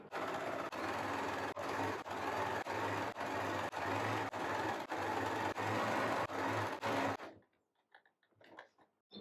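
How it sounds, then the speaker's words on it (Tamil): A sewing machine stitches a bias cross piece onto a blouse neckline at quarter-inch distance, running in a loud, fast, steady whir with brief regular pauses, then stopping abruptly into a few small handling clicks. "இது மாதிரி நான் வந்து கிராஸ் பீஸை வச்சு ஒரு 1/4 இன்ச் டிஸ்டன்ஸில் அப்படியே ஸ்டிச் பண்ணி வந்துடுவோம்"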